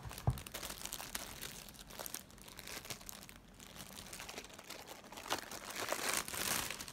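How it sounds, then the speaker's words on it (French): A Blaubody weighted jump rope being unboxed from its packaging, with close, irregular crinkling and rustling of plastic and cardboard, some brief tearing bursts, quiet and without talking. "Donc je vais faire le déballage devant vous."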